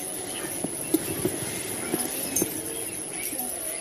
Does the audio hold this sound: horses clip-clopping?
yes